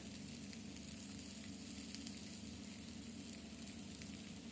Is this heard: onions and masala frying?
yes